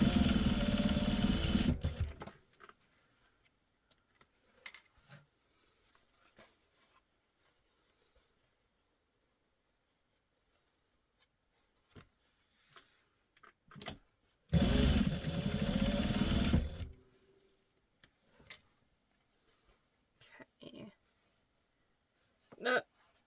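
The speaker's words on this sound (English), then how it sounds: "And I'm back stitching at the start and stop of these." A sewing machine stitches darts on a fabric bowl cozy in two loud bursts of about two seconds each, backstitching at start and stop, separated by quiet handling noises and small clicks.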